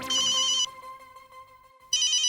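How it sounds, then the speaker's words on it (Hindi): Incoming-call ringtone on a phone plays as a loud bright electronic melody, then dips quieter mid-phrase before resuming at full volume, with no talking over it. "ये यार मुझे क्यों कॉल कर रहा है?"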